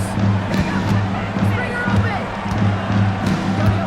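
A basketball arena crowd at a WNBA regular-season game between the Chicago Sky and Atlanta Dream roars and cheers steadily, a dense, loud wash of voices sustained throughout.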